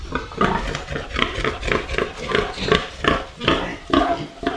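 A sow in heat grunts and squeals in a rapid, repeated run of loud, close, harsh calls, with no pauses and no talk.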